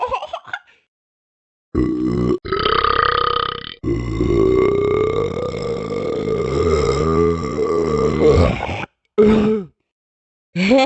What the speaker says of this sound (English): Okay, that should be enough burping.